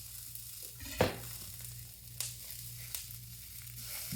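Jalapenos and onions sizzle steadily in a pan for a green chili breakfast burrito, a soft continuous hiss broken by a few sharp clinks and scrapes of stirring, with no talk.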